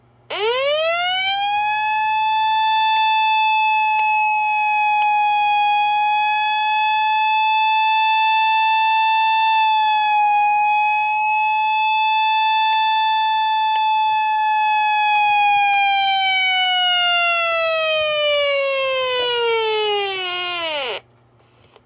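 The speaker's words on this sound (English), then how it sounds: "And the siren on this thing's really low pitch." A single loud, steady, low-pitched weather radio alert siren holds one tone for about twenty seconds, then drops in pitch and stops.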